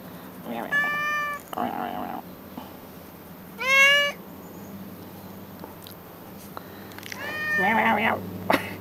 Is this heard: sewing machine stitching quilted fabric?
no